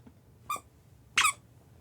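Two short, bright squeaks from a fursuit toy or squeaker, spaced about half a second apart with the second one louder and fuller, set against a quiet background and no talking.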